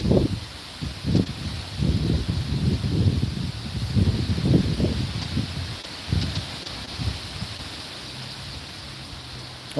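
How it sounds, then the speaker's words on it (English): Wind gusts through falling autumn leaves outdoors, giving a steady, broad rustle. Louder swells come in the first half, then it settles into a softer, even hiss. "The wind is blowing. The leaves are falling."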